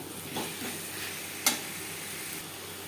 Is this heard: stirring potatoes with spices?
yes